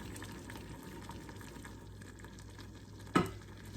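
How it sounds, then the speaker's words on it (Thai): Currywurst sauce boils in a pot on the stove with a faint, steady bubbling and sizzling hiss. A single sharp clank stands out near the end. "หลีเตานิดนึง ไม่ให้เขาเดือดจนล้นหม้อ"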